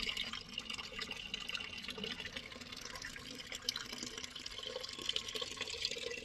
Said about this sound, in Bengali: এই যখন জমিতে জল দেওয়া হচ্ছে